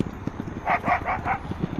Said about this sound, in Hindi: इधर कुत्ता है बहुत है, वो देखो भाग रहा है गाड़ी के पीछे